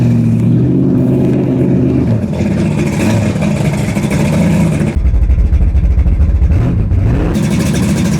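A car engine with an exhaust fitted revs loudly and steadily, rumbling through the exhaust, then drops into a deeper, rougher idle before revving again.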